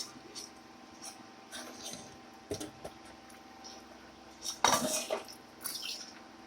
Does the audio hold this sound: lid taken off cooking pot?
yes